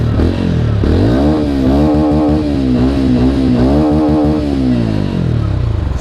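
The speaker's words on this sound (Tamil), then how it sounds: "எக்ஸாஸ்ட் நோட் கேளுங்க." A TVS Ronin 225 motorcycle revs at a standstill, its exhaust note climbing and falling in several throttle blips over a steady loud idle, heard close and alone.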